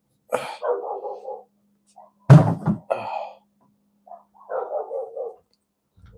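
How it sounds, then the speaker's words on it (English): Two dogs barking indoors at home, in several short clustered bursts of barks separated by quiet gaps, fairly close and moderately loud. "Will you two shut up? Freaking dogs."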